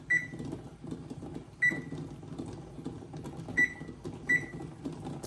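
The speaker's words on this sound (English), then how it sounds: "go ahead and set our timer here for 10 minutes" Several short, high electronic beeps from a kitchen timer being set for 10 minutes, spaced irregularly over a steady low background hum.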